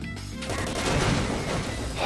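Gunfire erupts in STALKER, a dense burst of rapid shots and crashing impacts blurring into one loud, chaotic rattle over roughly two seconds.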